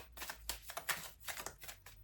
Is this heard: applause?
no